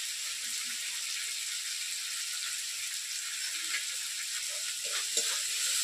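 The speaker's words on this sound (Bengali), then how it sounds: "মশলাটা আমি ভালো করে কষে নেব।" Spice masala with tomatoes and Kashmiri chilli powder frying in a pan, a steady bright sizzle running throughout with occasional stirring scrapes and small pops, close and continuous with no talking.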